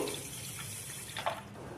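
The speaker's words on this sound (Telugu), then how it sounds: "తగినంత చక్కెర తీసుకొని మనం వాటర్ వేసుకోవాలి" Water runs into sugar to make syrup for gulab jamun, a brief trickling pour with a small splash near the end, close and faint.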